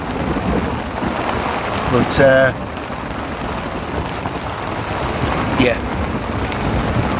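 Steady heavy rain pattering on a surface during a thunderstorm at a carp fishing lake, with a sharp crackling thunder burst early and a fainter rumble later, while someone briefly speaks.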